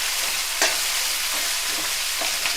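Onions and mixed vegetables fry for fish fried rice with a constant loud sizzle, broken by a few quick spatula knocks and stirring scrapes, nearby, with no voices.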